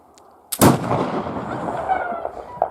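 A flintlock gun fires outdoors: a faint click, then one loud sharp blast followed by a long rolling boom and echo that slowly fades.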